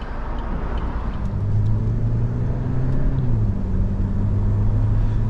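Buick Cascada engine rising in pitch as it accelerates on the Pacific Coast Highway, a steady low drone heard from inside the car with road rumble underneath.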